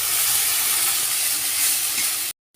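Ground spice paste of cumin, ginger and dried chilli sizzling loudly in hot frying oil, a dense continuous hiss close up that cuts off abruptly near the end, no voices.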